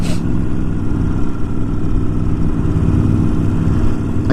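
Harley-Davidson Iron 1200 motorcycle riding loud and close, engine droning steadily through the 1-to-2 gear shift with a low rumbling exhaust throughout.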